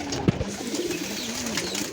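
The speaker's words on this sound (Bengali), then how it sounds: "কবুতরের কুচকাওয়াজ, কবুতরের আওয়াজ" Pigeons coo close by in soft, low repeated calls, with a short sharp bump early on and light background noise.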